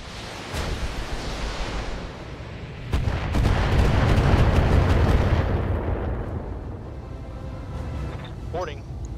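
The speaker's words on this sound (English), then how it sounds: "That's a lot of freaking missiles, man." A barrage of many missiles exploding in a video game: sustained roaring blasts with sharp cracks, swelling to a loud rumbling peak midway and then fading, with a voice heard briefly.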